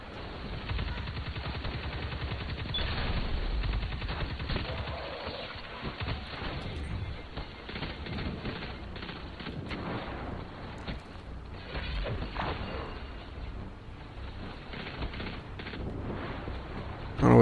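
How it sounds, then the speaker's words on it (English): Gunfire rattles through a Destiny 2 firefight, a dense stream of rapid, crackling automatic shots at steady loudness throughout, muffled and dull in tone. "don't know where the shots are coming from"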